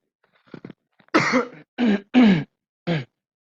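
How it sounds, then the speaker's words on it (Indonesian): A person close by clears their throat and coughs, a few soft sputters followed by four short, sharp bursts spaced out, in an otherwise quiet room. "mohon maaf agak batuk sedikit"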